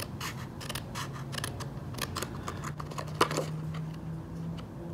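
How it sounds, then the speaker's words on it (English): Fine-tip scissors snip through paper flower petals from a garden-themed craft collection, making quick repeated crisp cuts close to the listener in a quiet room. "I'm just going to use some scissors to get out this first one."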